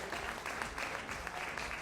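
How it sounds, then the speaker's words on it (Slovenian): Audience applause for dancers at an acrobatic rock'n'roll tournament in Vrhnika, a steady dense clapping from a crowd that holds evenly throughout without pauses. "pa vsem čestitamo in damo vsem zelo velik aplavz"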